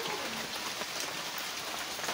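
Steady morning rain falls, a soft, even patter of drops hissing on surfaces, continuous and fairly quiet with no voices.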